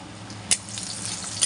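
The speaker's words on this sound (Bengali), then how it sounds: "রাঁধুনি ফোড়ন দিলাম, আলুটা অল্প করে ভেজে নেব এর সঙ্গে।" Sliced potatoes frying in hot oil after a radhuni seed tempering, a steady soft sizzle with a couple of brief spatter pops, close and quiet.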